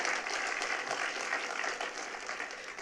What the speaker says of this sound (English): Yeah, that deserves a big round of applause.